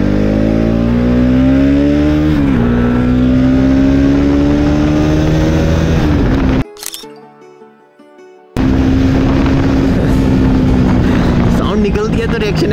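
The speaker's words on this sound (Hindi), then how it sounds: "जब मैं फुल रेस देता हूँ, फुल थ्रॉटल देता हूँ" Bajaj Pulsar RS 200 motorcycle at full throttle, a loud close engine howl rising in pitch through the gears, dropping out for a gap before roaring back, with wind rush.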